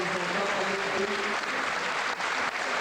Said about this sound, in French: vous pouvez les applaudir parce qu'ils sont là